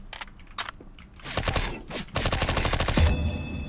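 Rapid bursts of M4 rifle gunfire from a CS:GO match, loud and close, with short volleys early on building into sustained automatic fire through the second half, no talk over it.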